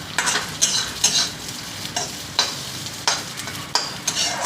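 Peanuts stir-fried in a little oil in a pan for ridge gourd peel chutney, with repeated scraping stirs over a soft background sizzle, close up and with no talk.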